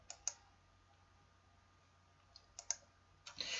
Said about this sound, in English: Then, click the Save option.